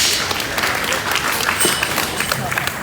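A crowd at a youth goat showmanship show in an arena claps for the champion, brisk sustained applause at moderate loudness with a voice over a loudspeaker briefly audible.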